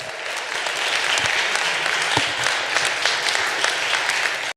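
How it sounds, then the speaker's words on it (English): An audience at a re:publica conference talk breaks into full, sustained applause, a dense wash of many hands clapping at steady loudness before it cuts off abruptly. "A big round of applause for a great talk."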